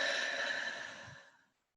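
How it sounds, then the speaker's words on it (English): A single long, soft exhale during a guided breathing exercise in a seated stretching class, steady and close, then fading into silence. "Breathing out."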